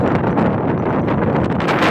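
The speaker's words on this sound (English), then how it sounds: "Oh, it's so windy." Brief, loud wind rumbling across the microphone on a bridge outside a police station in Plano, a continuous low roar without speech.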